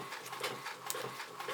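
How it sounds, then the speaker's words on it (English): A printer runs while printing planner pages, with soft repeated mechanical passes and whirring strokes. It is quiet and steady, with no talking. "just run the printer the entire time."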